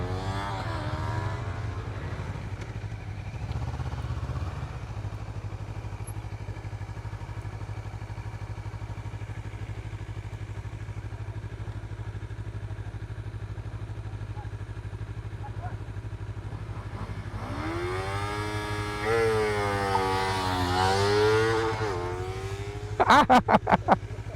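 A 2023 Honda CBR250RR sport motorcycle engine, at half operating temperature, hums steadily, then revs up in rising and falling sweeps near the end, with a few sharp clattering pops at the close.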